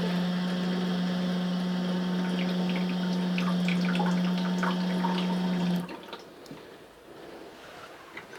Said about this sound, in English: I'm just going to put power onto the pump and see if that works